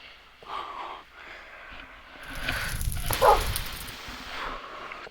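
Pet dogs in a survival video game bark and snort beside a crackling fireplace, with several muffled barks over a steady hiss that swells in the middle.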